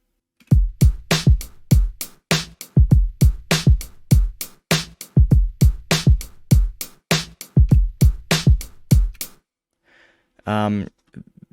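A drum pattern of sharp, regular hits with deep kicks and bright snaps repeating in a steady groove, ending abruptly, followed by a brief voice.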